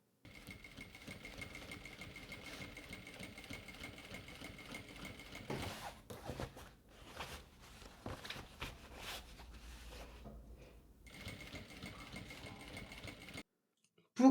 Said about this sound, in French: on pique près du bord